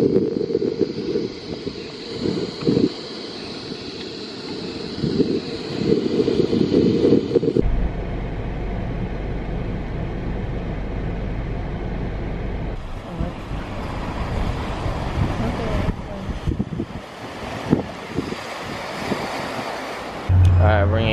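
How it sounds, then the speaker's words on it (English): Strong wind blowing by the sea near a waterfall, with surf rumbling underneath; a loud, steady roar of gusts buffeting the microphone throughout, with brief bursts of movement and handling. "Oh man, it's gonna be windy."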